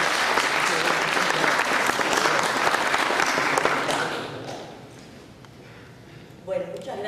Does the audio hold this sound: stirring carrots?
no